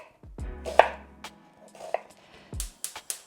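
Knife dicing onions on a cutting board for potato and pea pilau, with several sharp, separated chops at an uneven pace, fairly close and clear.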